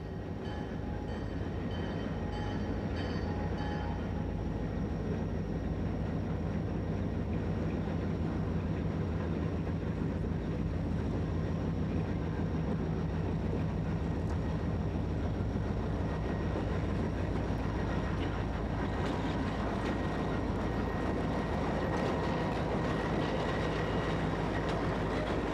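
CSX westbound freight train leaving Brunswick, Maryland behind a mixed lash-up of EMD and GE locomotives, a continuous heavy rumble and rolling clatter of cars that holds loud and steady throughout, with no voices.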